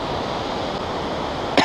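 Steady broadband rush of the Current River flowing, heard continuously from nearby with no talking, ending in a brief bump of louder noise.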